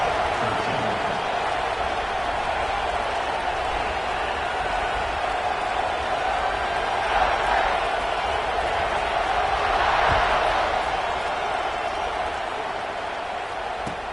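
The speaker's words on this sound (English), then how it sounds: "this crowd now ready to get behind them" A stadium crowd in the College Football 26 video game roars steadily in the background, swelling briefly twice before settling back to a constant wash of noise.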